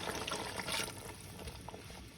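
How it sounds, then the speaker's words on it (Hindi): Water pours into a pot of soaked rice, a brief splashing, gurgling rush that is strongest at first and eases off, heard close with no talk. "इसमें मैं 1/4 kg पानी शामिल करने लगी हूँ"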